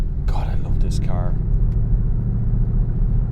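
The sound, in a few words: Ford Mustang Bullitt V8 engine while driving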